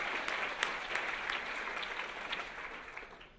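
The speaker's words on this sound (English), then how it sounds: "Let's give a big round of applause to the NACTO leadership and" A conference crowd at a city design keynote applauds, a steady wash of many hands clapping at moderate distance, fairly soft and continuous without talk.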